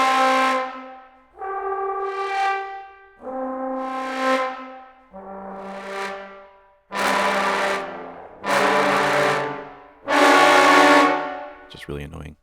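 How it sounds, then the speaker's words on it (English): Seven flutter-tongued trombone ensemble chords sound one after another from a CineBrass Pro sample library, each a buzzing, rattling swell lasting over a second with brief gaps between, growing brighter and louder toward the end before a short final hit. "This is Trombones Ensemble Fluttered."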